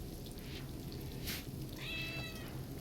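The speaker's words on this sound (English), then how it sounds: "Yeah, cat." A cat meows in the colony-sim video game RimWorld, a single drawn-out mew around the middle over a soft watery background hiss, with no talking.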